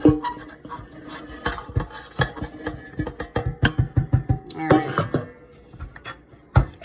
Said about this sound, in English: I like to use the spatula just to make sure I have everything that goes in the bowl.